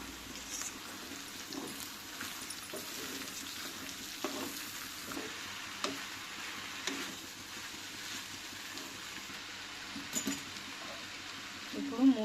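Chopped ridge gourd sizzles steadily in hot oil with dal and a pinch of asafoetida, with intermittent scraping stirs and clinks of a utensil against the pan, close and moderately loud throughout.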